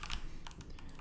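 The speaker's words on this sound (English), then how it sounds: "You can hear the pure skill in that keyboard." Quick bursts of computer keyboard typing during a Minecraft speedrun session, keys clattering in fast irregular clusters at a low, close level.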